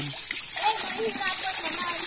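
Water flowing freely from a village water source in the Philippines, a continuous splashing hiss heard close up while people talk over it.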